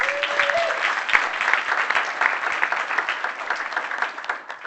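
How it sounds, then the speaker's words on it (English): Audience applause at a real estate conference, the Inman Connect New York event, a dense, loud and sustained clapping from a large crowd close by, with a brief tone near the start and fading slightly at the end. "And give him a round of applause"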